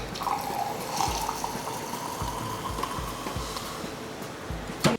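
Soda water pours into a mojito made with white rum and lime juice, a steady splashing trickle that runs for several seconds, close and moderately quiet, with faint clinks and knocks under it.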